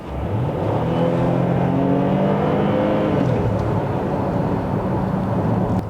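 A 2015 Opel Insignia OPC 2.8 V6 turbo engine roars steadily under kickdown acceleration, the pitch climbing through the revs, loud and close with no talking.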